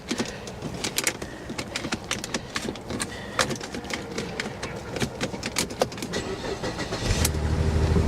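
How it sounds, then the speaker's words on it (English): A C4 Corvette engine runs roughly with a bad misfire, uneven sharp pops and stumbles breaking up the idle, the engine swelling louder near the end. "she's misfiring pretty bad, guys"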